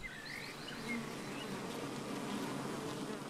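Honeybees fly close by near a rooftop hive, their buzzing a steady, fairly quiet drone that rises and falls slightly in pitch as insects pass.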